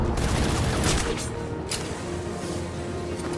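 Rapid enemy gunfire in the Batman: Arkham City video game, a loud, dense burst of shots in the first second that settles into continuous rattling and booming game noise.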